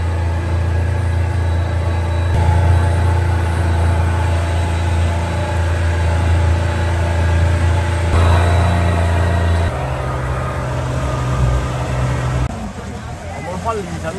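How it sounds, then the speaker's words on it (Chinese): A motor runs slowly on the way to Phi Phi Island near Krabi, with a loud, close, steady low engine drone whose pitch shifts a few times, while people talk over it. "这里摩托不能走快哦"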